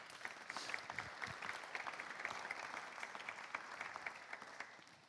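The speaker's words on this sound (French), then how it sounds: "On peut applaudir Léa là-dessus." Faint, distant clapping from a conference audience in a hall, a steady patter of many hands that holds for about five seconds, then fades.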